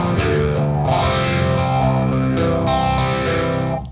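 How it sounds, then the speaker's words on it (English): Distorted electric guitar chords run through a ToneX phaser effect, swirling continuously with a sweeping, stereo-like whoosh, loud and sustained. "Phaser."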